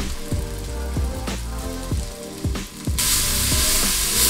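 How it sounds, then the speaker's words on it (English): Spices blooming in hot oil in a pan for a protein chili: a loud, steady sizzle that grows brighter and hissier toward the end, with a faint musical tone running underneath. "right now I'm going to bloom the spices in the oil"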